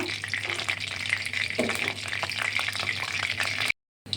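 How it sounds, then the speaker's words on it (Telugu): Spices for tempering lemon rice splutter and crackle in hot oil, a steady close sizzle with scattered pops that runs unbroken for several seconds before cutting off abruptly near the end. "ఇప్పుడు చూడండి చిటపడ చిటపడలు అనమాట"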